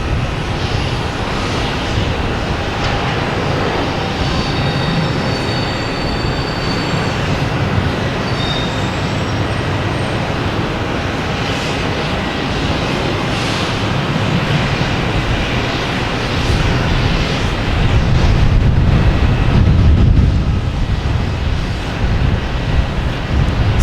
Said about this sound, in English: That was American Airlines coming in from Reagan.